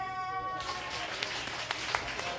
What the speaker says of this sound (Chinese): 请大家掌声